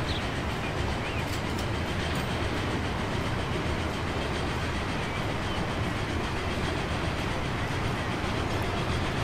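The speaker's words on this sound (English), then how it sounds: "Passing through the station at a healthy 50 miles per hour" A passenger train in the video game Transport Fever rolls through a Milwaukee station at about 50 miles per hour, giving a loud, steady rumble with faint rhythmic wheel clatter that continues unbroken throughout.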